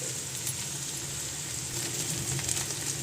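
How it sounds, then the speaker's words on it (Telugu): Green chillies fry in a pan for an okra curry, giving a steady, close sizzle and crackle with a few small pops, without any talk. "పచ్చిమిర్చి కూడా వేగాలి."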